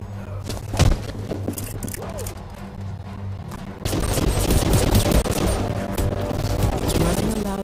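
Gunfire in the stealth action game Hitman: Absolution, running on an Android phone through an emulator, with bursts of shots and impacts building into sustained dense firing over steady game background noise.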